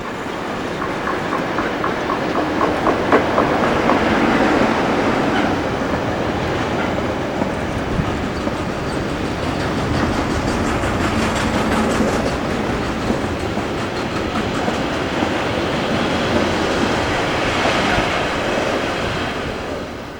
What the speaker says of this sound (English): 47353 heads the Leeds to Thamesport Freightliner